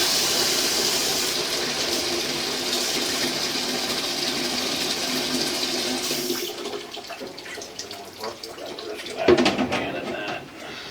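Water is poured into a drain tube, a steady splashing gush that runs for about six seconds and then gives way to quieter trickles and a short louder splash near the end.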